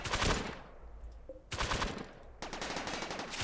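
Rapid bursts of automatic gunfire in the video game Rimworld, aimed at turrets, come in loud dense volleys separated by brief pauses, with no talking.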